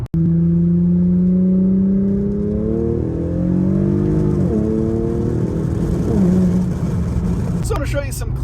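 An Infiniti Q50 with an SCS catback performance exhaust revs up and falls back in loud, close, rumbling swells of engine tone, with a voice briefly heard.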